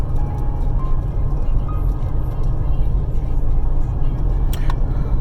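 Steady low road rumble and engine drone from a car driving along on a hot day, constant and fairly loud throughout with faint higher tones above, no talking.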